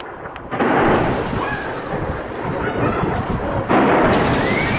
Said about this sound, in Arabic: قصف مدينة حلفاية بالطيران المروحي